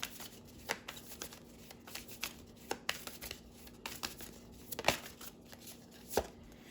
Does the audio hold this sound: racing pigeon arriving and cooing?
no